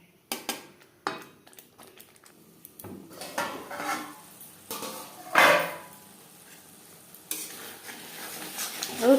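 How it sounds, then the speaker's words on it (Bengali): Duck egg curry simmering in a pan over a low to medium gas flame, with repeated stirring scrapes and soft sizzling, a clear spoon clatter midway and a few utensil knocks near the end, no talking. "বেশ ভালো করে মিক্সড করে দেওয়ার পর লো টু মিডিয়াম ফ্লেমে আরও তিন চার মিনিট রান্না করবো"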